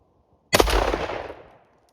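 A shotgun firing a 1 oz steel load of number 5 shot with 35 grains of Longshot powder and an MG42 wad, one sharp loud blast with a brief decaying echo, alone.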